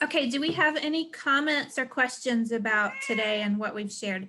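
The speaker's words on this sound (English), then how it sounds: "Please excuse my deaf cat." A loud deaf cat meows repeatedly indoors, its drawn-out cries overlapping a voice speaking throughout.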